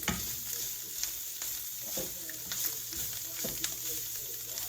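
Ground beef sizzles and crackles steadily in a pan as frozen garlic pucks go in, with soft stirring scrapes through the quiet frying.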